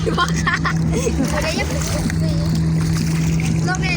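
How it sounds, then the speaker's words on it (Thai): People splash and play in the water of the Mekong River at Tha Phanom, with busy watery splashes close by under lively voices, children among them, and a steady low engine-like drone beneath. "ตอนนี้เรากำลังเล่นน้ำอยู่ครับ"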